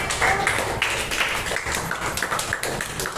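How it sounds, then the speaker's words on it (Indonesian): A small group claps in a classroom or meeting setting, scattered uneven handclaps lasting a few seconds, fairly close and moderate in volume. "Tepuk tangan buat Eri."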